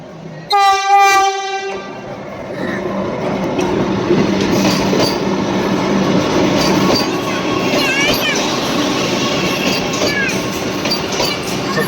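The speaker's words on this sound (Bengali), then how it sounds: "এদিকে দেখো আমাদের ট্রেনও ঢুকে গেছে ওই দেখো ট্রেনটা আসছে" A Vande Bharat train arriving at a station sounds a loud horn blast near the start, then rolls in with a steady rumble of wheels and carriages and some brief squeals, with faint voices in the background.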